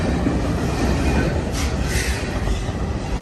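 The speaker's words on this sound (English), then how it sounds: "it has freight cars at the beginning of this train, even a generator as well" A long freight train, with freight cars and a generator car at the front, rolls past close by in a loud, continuous rumble of wheels and rail noise with faint squeal.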